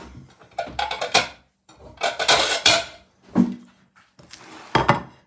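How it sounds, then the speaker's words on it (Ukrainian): Ceramic bowls and dishes clatter and clink as food is placed into a bowl while making German pancakes, four separate bursts of knocking and scraping with short quiet gaps between. "І викладаємо в мисочку."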